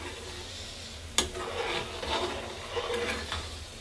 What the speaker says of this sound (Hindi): काफ़ी देर तक हम इसको घुमाएंगे जब तक ये दूध जो है वो 2 कप से 1 कप ना हो जाए।